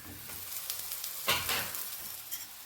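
A paratha roasts in oil on a hot pan, giving a faint steady sizzle with a few sharper crackling bursts as it is flipped, no voices.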